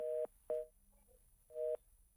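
A phone line gives a disconnect tone after a call is cut off during a news broadcast: three short, even electronic beeps with gaps between them, clear and alone.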